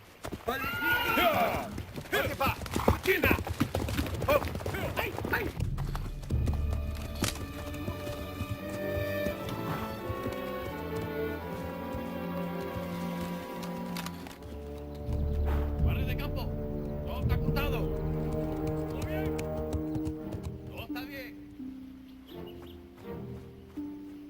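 Horse hooves clip-clop amid whinnying horses and a dense, busy soundscape with music-like tones, steady and fairly loud throughout.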